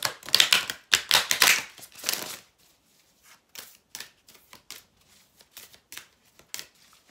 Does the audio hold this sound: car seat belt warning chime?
no